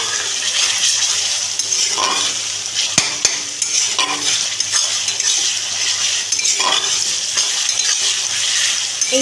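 Garlic and ginger paste stir-frying in a pan for chicken Hakka noodles, a loud continuous close sizzle with repeated scraping strokes and light clinks of the spatula against the pan, no voices.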